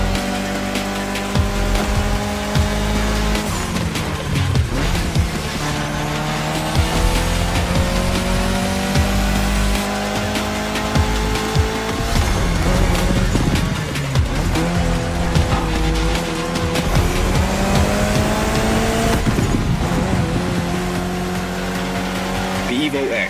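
A Mitsubishi Lancer Evo X roars through The Crew Motorfest, its engine climbing and dropping through gear changes with tire squeal and a steady loud drone. Speech sits underneath the engine.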